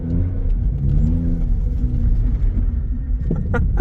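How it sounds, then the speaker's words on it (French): A 2006 BMW X3 E83 3.0i on summer semi-slick tyres slides in snow as its engine revs, a loud close low rumble with rising and falling tones, then a brief sharper burst of engine noise near the end. "Là, je mets juste un petit coup de gaz, elle se déporte, elle part toute seule"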